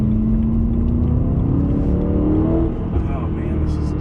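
A BMW M3 with its S65 V8 engine drones loudly and continuously from inside the car, its pitch rising steadily under acceleration before easing off near the end, with a strong low rumble throughout.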